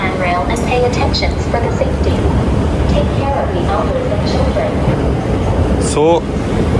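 Loud, echoing crowd noise fills an underground metro station three floors below ground, with voices talking over a constant low rumble and a brief rising tone near the end.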